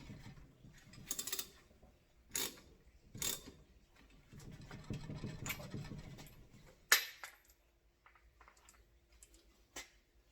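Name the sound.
cranking a hydraulic steering hose into its fitting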